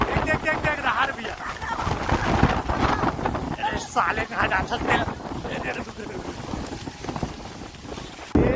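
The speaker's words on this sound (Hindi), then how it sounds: "ए बाबा कितना हवा चलाएगा" Strong gusting wind roars across a microphone at an open vegetable market during light rain, a loud continuous buffeting rush under the voices of people talking nearby.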